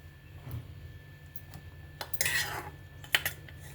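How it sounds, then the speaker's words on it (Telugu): Boiled cauliflower being added to raw mango chutney in a pan, heard as soft scraping and a few sharp metallic clinks of a spoon against the pan, quiet and close. "ఇప్పుడు మనం ఉడకబెట్టుకున్న కాలీఫ్లవర్ కూడా వేసేసుకుందాం."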